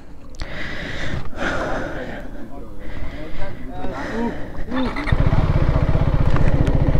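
A KTM 390 Adventure S motorcycle on an off-road trail track, its engine note rising and falling before settling into a loud, steady idle rumble, with people talking over it throughout.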